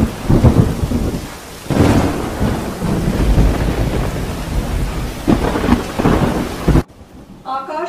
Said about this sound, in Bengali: ঝরে পড়ছে রিমঝিম বৃষ্টির কণা শহর জুড়ে